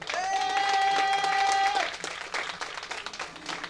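Audience applause at a Tamil film trailer launch event, a moderate spread of clapping under a sustained whistle or cheering tone at the start that then breaks off, leaving scattered claps that thin out.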